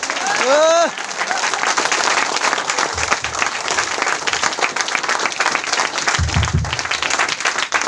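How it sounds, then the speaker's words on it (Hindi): A loud, dense burst of audience applause fills a workshop training hall, steady and continuous for the whole stretch, with a brief raised voice at the start and low thumps partway through. "ये ताली हुआ क्या?"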